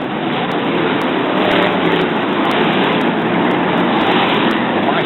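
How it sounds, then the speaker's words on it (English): Brisca F1 stock cars racing at Brafield in 1983 roar past in a dense, constant engine drone, loud and unbroken for the whole stretch, with faint regular ticks in the background. "Roar of these really powerful engines. They come thundering through"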